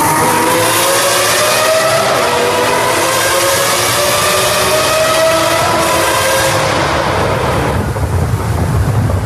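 Lamborghini Gallardo engine roaring through a sustained rev, a loud, rough, buzzing exhaust note with rising pitch that drops away sharply near the end, with no voices.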